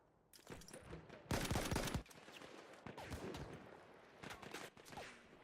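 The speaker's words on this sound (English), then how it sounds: "nice mortars are going to be coming in" Mortar fire and gunshots crackle through a PS4 video game match, with bursts of rapid gunfire, a heavy salvo in the middle and scattered shots, all fairly faint and without talk.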